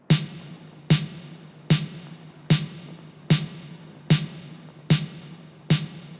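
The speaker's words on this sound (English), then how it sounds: "we're going to start off with a very simple snare that's going to sound like this" Simple sampled snare drum for a post-punk beat made in FL Studio, eight sharp crisp hits at an even, slow tempo, each with a short noisy tail, played alone.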